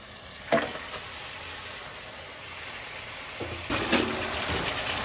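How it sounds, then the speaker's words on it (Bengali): Goat head being stirred into spice paste in a pot for a mung dal curry, giving a soft steady sizzle with two louder bursts of stirring and scraping, close and alone. "খাসির মাথা দিয়ে এবার আমরা এটাকে ভালোভাবে নাড়িয়ে নেব"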